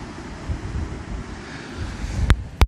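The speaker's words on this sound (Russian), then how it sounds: "ветер мешает, конечно" Wind gusts buffeting the microphone in a low rumble, with a few sharp knocks near the end, outdoors on the seafront near a lighthouse in Anapa.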